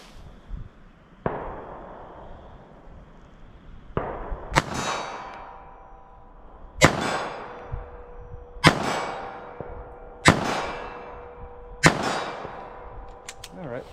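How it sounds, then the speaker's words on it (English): Pistol shots from a .380 ACP fired slowly one at a time at a steel silhouette target, each sharp crack followed by a ringing metallic clang, about five shots spaced a couple of seconds apart outdoors. "So let me shoot up my steel silhouette and see how the practical accuracy is of these rounds."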